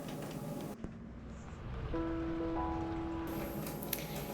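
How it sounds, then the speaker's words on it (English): Steady rain falls at night outside a Nordhavn 55 motor yacht, a continuous soft hiss with a sustained tonal hum rising partway through; no voices. "It's dark and rainy outside"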